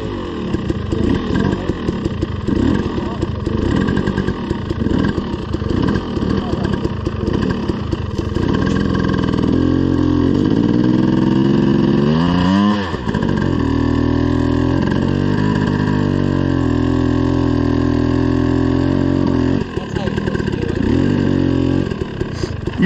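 An off-road motorcycle rumbles loudly and continuously, idling and then revving once midway while stopped in a deep puddle on a trail ride.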